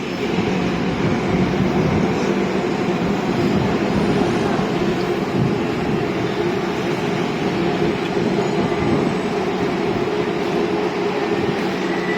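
A Bangkok skytrain runs toward Mo Chit station, a steady rolling rail rumble with wheel noise heard from onboard, even in level and uninterrupted.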